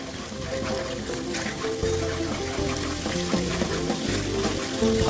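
Ginger garlic paste sizzles in a quarter cup of oil, a steady crackling fry running throughout beneath a layer of sustained background music tones.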